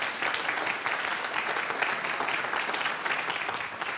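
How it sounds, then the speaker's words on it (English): Quiet, steady applause from an audience at a town meeting, honoring the town administrator for her work on the Mt. Airy vision plan; dense, even clapping runs throughout without a break. "I'd like to give her a round of applause for the great job she did on this"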